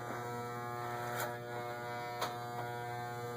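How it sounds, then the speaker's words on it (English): Continuous buzzing hum of electric clippers running close up, with a few brief crisp bursts as they cut through hair. "you can hear the clippers just cut a little bit of hair"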